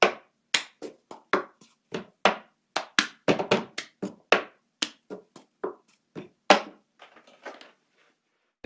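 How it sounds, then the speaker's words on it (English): Cup song routine of hand claps and cup taps on a table: a quick, crisp rhythmic pattern of close, sharp hits played alone, thinning to softer taps at the end. "You just go clap, clap, table, table."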